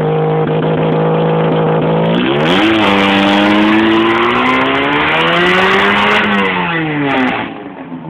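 A car's exhaust revs loud and close, the engine note climbing and holding high before easing back down, with a rasping, crackling edge and no talking.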